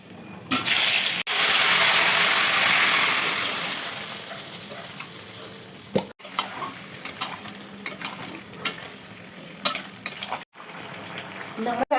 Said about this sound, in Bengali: প্রেসার কুকারের সবজিগুলো একটা সিটি মেরে রেখেছি ওটা কড়াতে ঢালছি।